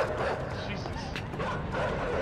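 Dogs in the video game Inside barking and yelping close by, a steady run of agitated barks over a noisy, busy background with a voice also present.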